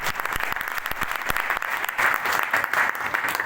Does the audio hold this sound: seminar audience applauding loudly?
yes